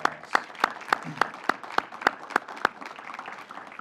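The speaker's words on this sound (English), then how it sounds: "Please give them a huge round of applause." Sparse, sharp hand claps ring out in a steady rhythm at a county council program update, a small group applauding for a few seconds with faint room ambience.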